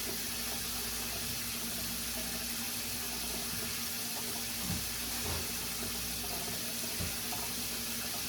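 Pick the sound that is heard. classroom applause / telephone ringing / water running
water running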